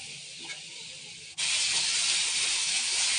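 Chopped tomatoes drop into hot refined oil in a pan. A quieter background hiss jumps suddenly into a loud, steady sizzle that carries on close by.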